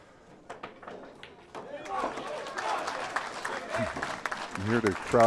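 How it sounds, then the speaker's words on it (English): Applause from a crowd at the 2015 Steinway Classic pool match swells from about halfway through and stays steady and fairly loud, with voices mixed in near the end. "You hear the crowd rally around Jayson."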